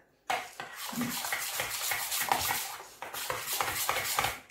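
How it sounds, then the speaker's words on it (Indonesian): Martabak batter being stirred in a bowl, with close, continuous utensil scraping and clinking in a steady rhythm and a brief pause partway through; no talk. "Ini kita aduk sampai rata ya."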